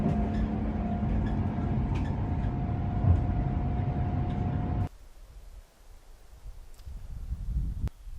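A passing train rumbles steadily with a sustained tone, then cuts off abruptly, leaving a quieter background with a few faint sounds, no talk.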